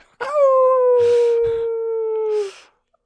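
A voice imitates a jackal, holding one long, loud, steady howl that slowly falls in pitch and ends abruptly, close and alone apart from a few soft thumps.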